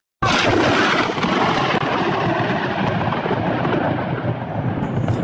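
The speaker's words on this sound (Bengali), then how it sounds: "আকাশে মেঘ ডাকা শুরু" A loud, deep roll of thunder bursts in suddenly and rumbles on steadily, close and heavy, fading only slightly toward the end.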